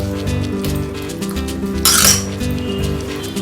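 A spoon stirs gunta ponganalu batter in a bowl, making repeated light clinks and scrapes against the bowl, with a musical backing playing underneath.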